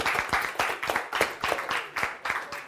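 Brief applause from a quiz audience at a charity gaming telethon, a loose run of rhythmic hand claps rather than a dense roar, steady and moderately close for a few seconds.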